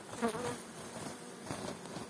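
Wild honeybees from a settled swarm buzz softly in a low, continuous hum, with a few insects passing close by.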